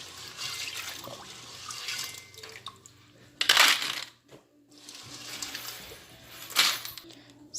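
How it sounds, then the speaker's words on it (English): Dried peas being washed by hand in a bowl of water for Jamaican rice and peas, giving soft sloshing and rattling swishes with two louder splashy stirs, close and alone. "we are wash the peas just like this"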